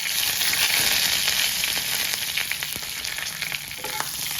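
Whole spices (bay leaves, cloves, peppercorns, cardamom, cinnamon and dried red chillies) sizzle in hot ghee for a curd fish dish, giving a loud, continuous close-up crackle with small popping bursts throughout.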